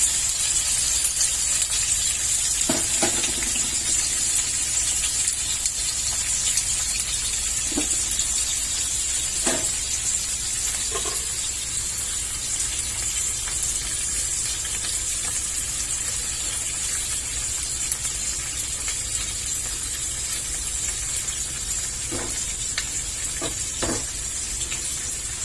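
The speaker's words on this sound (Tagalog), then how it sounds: "Kumulo na yung ating soup." A pot of yellow corn soup boils with a constant, hissing bubble that stays even throughout, broken by a few faint clinks.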